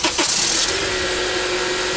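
A Honda Accord engine starts with a brief burst of cranking noise, then settles within a second into a steady, even idle hum heard up close.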